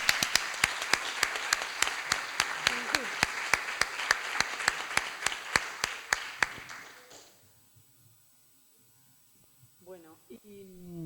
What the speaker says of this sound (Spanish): El aplauso es para Damián, que nos ha montado el vídeo en tiempo récord.